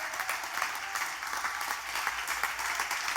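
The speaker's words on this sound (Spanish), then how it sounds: "ponte de pie y darle un aplauso a Dios" A church congregation applauds together in a worship service, a steady, dense wash of many hands clapping at close range with no talking over it.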